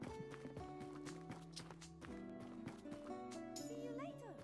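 In the video game Tavern Manager Simulator, horse hooves clip-clop in a quick, even rhythm alongside game music and other in-game sounds, with someone speaking over them.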